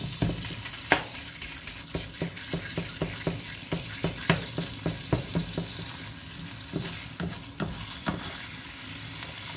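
Pork fried rice frying in a pan gives a steady close sizzle, broken by repeated clicking scrapes of a utensil stirring and tossing the rice at a fairly even rhythm throughout.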